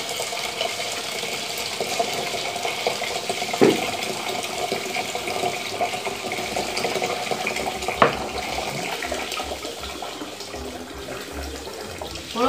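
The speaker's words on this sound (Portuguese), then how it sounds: "Coloquei a quantidade de água ideal" Water runs steadily into a small pressure cooker for cooking mugunzá, a constant close rushing pour with a couple of knocks of the pot, no voices.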